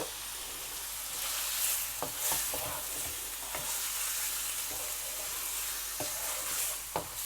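Chicken stir-fried with salt, black pepper and chili flakes for noodles, a steady hiss of frying broken by sharp scraping clicks of a spatula against the pan at irregular intervals.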